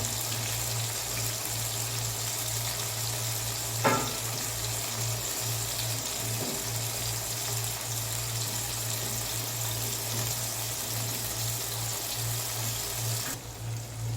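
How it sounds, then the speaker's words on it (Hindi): Tomatoes and chilies fry in oil in a pan for salan, a steady even sizzle that runs unbroken at moderate level, with a low background hum, a single brief knock and no talk. "ऑयल डाल दिया है और हमारा टमाटर और मिर्ची पक रही है"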